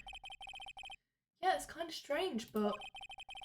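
A phone ringtone from Phoenix Wright: Ace Attorney Trilogy chirps in rapid repeating electronic pulses, cuts out, then returns beneath and after someone talking.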